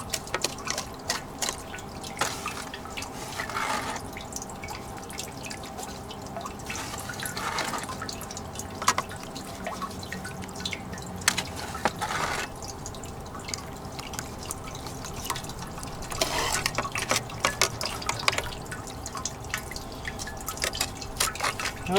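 Water runs and splashes through a gold sluice loaded with magnetite, a continuous close trickle with scattered drips and bursts of pouring, steady throughout without voices.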